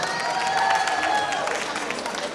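An audience at a gala night claps for MP Reggie Valdez, a dense, steady wash of applause filling the room, heard close and continuous with no speech standing out.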